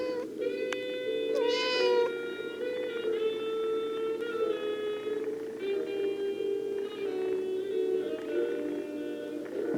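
A domestic cat meows repeatedly and close by in a series of drawn-out, wavering cries over a steady background hum, with no talking.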